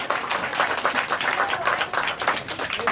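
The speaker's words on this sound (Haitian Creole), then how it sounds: "Donc on nous applaudit encore." An audience at a school inauguration ceremony applauds, a dense, even burst of many hands clapping that holds steady for a few seconds.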